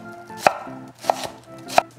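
A knife chops food on a cutting board during prep for crispy chicken parmesan with rustic marinara: three crisp, evenly spaced knocks, close and clear, with no talk.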